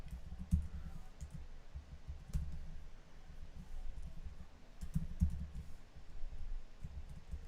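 Computer keyboard keys clicking in irregular bursts of typing, close and moderately loud over a low background hum, with no talking.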